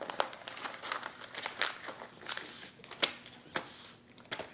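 Butcher paper crinkles and rustles as it is folded around beef dino ribs, with irregular close crackles and soft handling noises and no voices.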